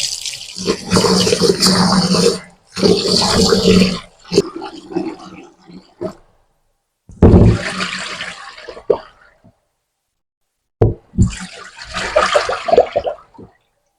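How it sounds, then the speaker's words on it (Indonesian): Pomfret being rinsed in a basin of water in a home kitchen until the water runs clear, heard as several separate bursts of close splashing and sloshing with short quiet gaps between them. "Ini kita cuci sampai jernih seperti ini ya teman-teman airnya."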